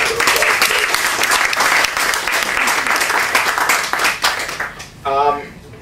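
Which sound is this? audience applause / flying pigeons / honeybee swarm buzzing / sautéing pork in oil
audience applause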